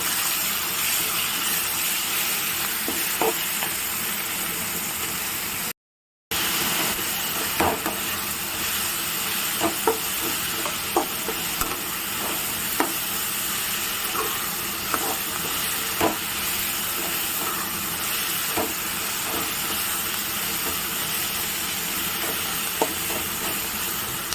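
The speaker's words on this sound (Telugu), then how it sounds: "చూడండి కారం వేసినా కలుపుతున్నాను" Chili powder is stirred into pulusu upma in a pan over the stove, giving a continuous steamy hiss and sizzle broken by scattered light scraping ticks of the spoon, steady throughout with one brief dropout, no voices.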